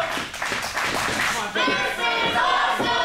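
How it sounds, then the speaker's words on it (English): Wrestling arena crowd cheering and clapping at a live show, a loud continuous roar with scattered shouts and applause, rising in intensity partway through. "Listen to that crowd, Pinky Santino."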